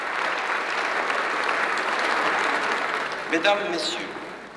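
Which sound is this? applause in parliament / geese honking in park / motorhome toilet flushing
applause in parliament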